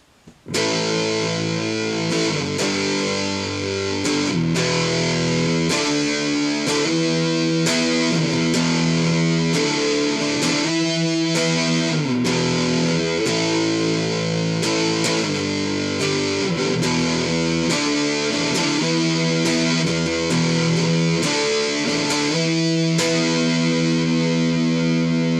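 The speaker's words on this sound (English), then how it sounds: "And this is the big muff, and just how beefy and meaty it sounds." Electric guitar played through a Big Muff distortion pedal, producing a thick, fuzzy, sustained tone as chords and notes ring continuously and loudly for the whole passage, with no talking.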